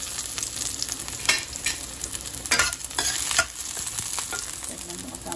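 Garlic sautéing in hot oil in a pan, a steady close sizzle with scraping stirs and brief louder bursts as the garlic is moved, no voices.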